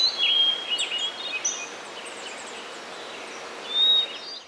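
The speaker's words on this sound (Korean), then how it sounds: "바람과 함께 새소리가 들리죠." Recorded forest birdsong played through an electric fan's breeze mode: scattered faint high chirps and tweets over a soft, steady airy hiss.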